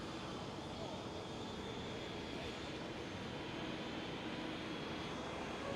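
A KLM Boeing 777-300ER jet at Schiphol airport makes a steady, broadband engine roar that stays loud and continuous throughout, with no pauses or distinct events.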